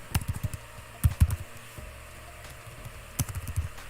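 Fingers typing on a computer keyboard in short bursts of quick, close clicks, pausing briefly between flurries, with no talking.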